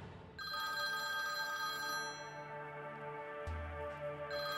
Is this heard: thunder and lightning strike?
no